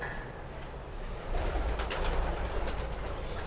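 Breeder pigeons cooing in a loft, a steady low murmur of coos that swells slightly partway through, with no talk over it.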